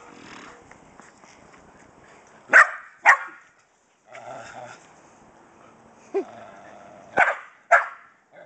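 A Shetland Sheepdog barks sharply five times in two pairs and a single bark, close by, with quieter muffled sounds between the barks.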